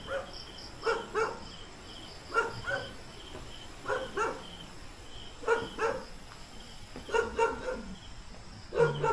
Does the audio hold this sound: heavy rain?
no